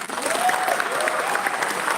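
Founders Day audience applauding steadily in a large hall, a dense, continuous wash of clapping held at even loudness throughout.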